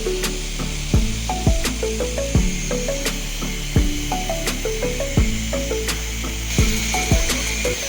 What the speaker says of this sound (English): Then cut the PVC pipe along the line that we marked earlier.